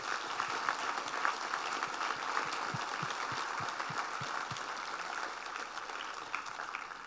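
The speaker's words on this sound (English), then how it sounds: "Once again, a big round of applause for this team of wonderful scientists" An audience applauds a team of scientists at a Parkinson's science seminar: a steady, sustained wash of clapping from a crowd, even in level throughout, with some low thumps mixed in.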